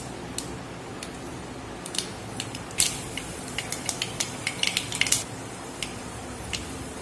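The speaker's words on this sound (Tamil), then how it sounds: "எண்ணெய் காய்ச்சலோன்னா கொஞ்சம் கடுகு, கொஞ்சம் வெந்தயம் நல்லா பொரியட்டும் ரெண்டும்." Mustard seeds and fenugreek splutter in hot sesame oil, with scattered sharp pops and crackles over a steady frying hiss, clustering densely midway before thinning out.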